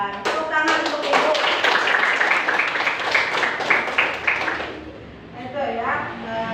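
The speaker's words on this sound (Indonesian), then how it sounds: "Tepuk tangan untuk ibu." Classroom students clapping for their teacher during an Islamic cultural history lesson, a lively rhythmic patter of many hands that stops abruptly, followed by quieter room sound and murmuring.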